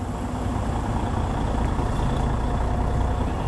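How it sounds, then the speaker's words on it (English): A Class A truck creeps forward and its service brakes are applied, heard as a steady loud diesel engine drone with a faint brief hiss near the middle, no talking. "We're going to move the vehicle ahead about 5 feet and then apply the service brakes to make sure it will stop the vehicle."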